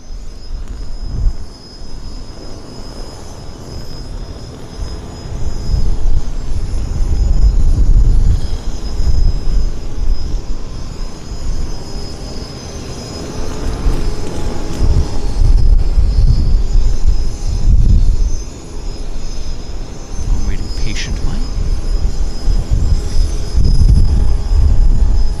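A Boeing 737 Max airliner at Vancouver Airport gives off a heavy, rolling jet roar that surges and eases over about twenty-five seconds, heard at a distance through steady background rumble.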